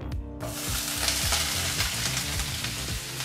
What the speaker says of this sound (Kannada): ನಂತರ ಮೀಡಿಯಂ ಫ್ಲೇಮಲ್ಲೇ 3 ರಿಂದ 4 ನಿಮಿಷ ಈರುಳ್ಳಿ ಚೆನ್ನಾಗಿ ತುಪ್ಪದಲ್ಲಿ ಫ್ರೈ ಮಾಡ್ಕೋಬೇಕಾಗತ್ತೆ